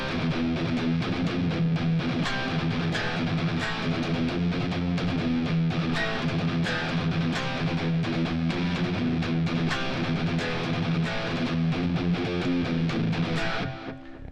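Distorted electric guitar plays a riff with full drums, a dense, steady band texture throughout that stays loud and continuous before easing off at the very end.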